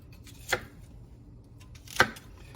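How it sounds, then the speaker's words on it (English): Two separate sharp knife strikes, about one and a half seconds apart, as a large sharp knife cuts vegetables into strips on a board, close and fairly quiet with a faint low background between them. "And then we're just gonna kind of cut them in strips."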